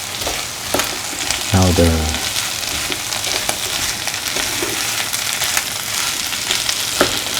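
Plantain and cashew stir-frying with curry leaves in a pan, a steady close sizzle with scraping stirs throughout, briefly under a short spoken phrase early on.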